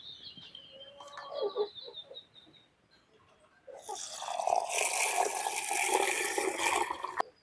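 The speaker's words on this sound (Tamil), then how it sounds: "தண்ணி ஊற்றுறேன்" Water pours in a loud, steady, rushing gush onto soaking cowpeas for a sweet vada. Faint chirps and a few soft household sounds come first.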